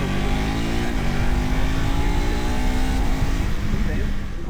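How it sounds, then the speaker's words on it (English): A KTM 390 Adventure X single-cylinder motorcycle engine revs hard and steadily, the pitch climbing and then holding under load, loud and close throughout with heavy wind noise and no pauses. "I hope the engine forgives me if I still rev it out a bit more"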